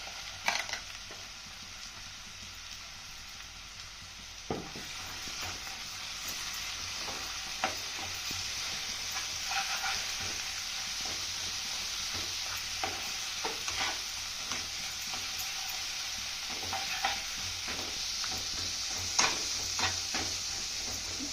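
Ground masala paste for a spicy Kolhapuri mutton curry stir-fried in a pan, a steady low sizzle with frequent scraping strokes of a spoon recurring over about twenty seconds, nobody speaking.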